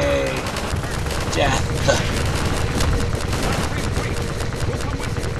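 Dense gunfire and blasts in Half-Life 2 fill the whole stretch with continuous shooting, bursts and thuds during a fight with striders, while a player shouts over it.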